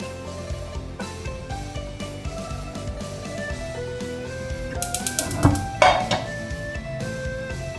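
Lotus root pieces lifted with utensils out of a pot on a home stovetop, giving a few light clinks and scrapes of metal on cookware over a low background hum, with a brighter clatter near the end.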